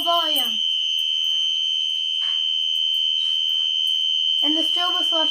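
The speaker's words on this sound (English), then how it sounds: "The alarm is very loud, and now we will reset the alarm." A fire alarm system with a horn set to continuous low volume sounds a steady, unbroken high tone throughout, while a person talks over it at the start and end.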